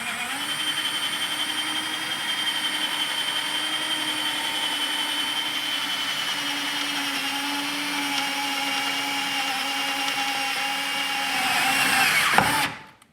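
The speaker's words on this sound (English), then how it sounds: "So we're just gonna drill through real quick." A power drill whines steadily for over ten seconds, a high grinding tone as it bores through metal on a 2021 Toyota 4Runner while fitting splash guards, rising in pitch before stopping abruptly.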